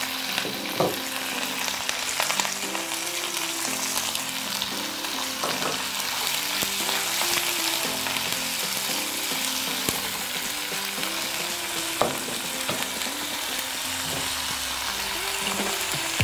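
Chopped vegetables for a tofu curry hiss and crackle in hot oil in a pan, with steady sizzling throughout and occasional scraping taps of a spoon stirring, close and moderately loud with no talking.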